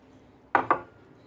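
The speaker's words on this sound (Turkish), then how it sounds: "Şöyle karamelimizi karıştıra karıştıra pişirelim." Two quick scraping knocks of a utensil in a pan as caramel cooked with sugar and starch water is stirred, close and brief against near silence.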